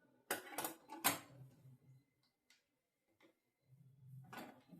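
Scissors snipping through blouse fabric at a tailoring table, a few quick near cuts in bursts at the start and again at the end, with a soft fabric rustle between and no talk.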